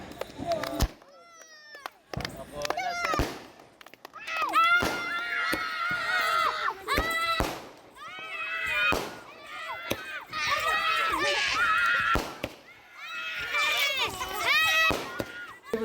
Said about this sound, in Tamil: சிறுவர்கள் பட்டாசு வெடித்து உற்சாகத்துடன் தீபாவளி பண்டிகையை கொண்டாடினர்